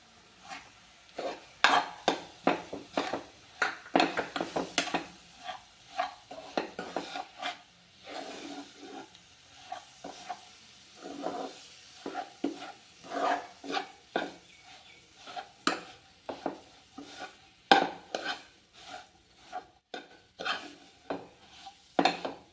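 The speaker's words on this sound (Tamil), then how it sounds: "அதில் ரவை நல்லா இது மாதிரி வறுபட்டுக்கணும்" Semolina (rava) roasting in a pan, stirred with repeated dry scraping and rubbing strokes of a spoon against the metal, an irregular rhythm of soft close scrapes with no voices.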